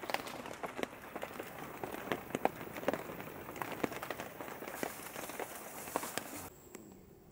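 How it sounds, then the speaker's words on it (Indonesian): Steady rain falling over a foggy swamp, a dense continuous patter of drops on leaves and water with scattered sharper taps, fairly close and even throughout before cutting off at the end. "Lagi hujan nih guys."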